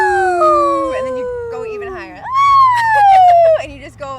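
A voice imitates a wailing siren, sliding high and then sweeping slowly downward, loud and close, with a brief break partway through.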